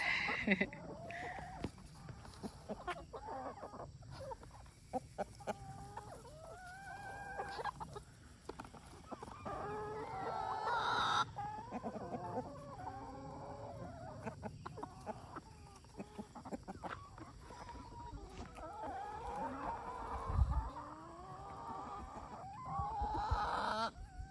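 Backyard chickens cluck and murmur steadily for a long stretch, close by, with occasional louder squawks and some quiet human talk in the background.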